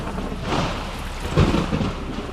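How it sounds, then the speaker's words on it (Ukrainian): Steady rain falling with deep rolling thunder beneath it, a louder rumble swelling midway through, dense and close throughout with no voices. "тіні танцювали по стінах під акомпанемент грому та дощу"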